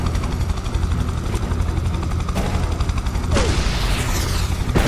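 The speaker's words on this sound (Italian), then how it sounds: "L'elicottero si è appena schiantato." In the video game Prototype 2, a military helicopter goes down amid a dense, continuous roar of rotor noise, gunfire and explosive booms, with a sweeping whine and crash near the end.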